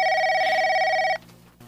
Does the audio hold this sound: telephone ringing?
yes